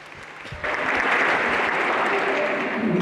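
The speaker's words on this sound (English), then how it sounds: "A round of applause." At a Regenesys Business School graduation ceremony for Bachelor of Business Administration graduates, a hall audience breaks into full applause after a brief quiet moment, then keeps clapping steadily and densely.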